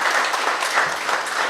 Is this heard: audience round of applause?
yes